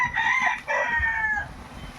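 A fighting rooster crows once, nearby and clear, a brief ringing call.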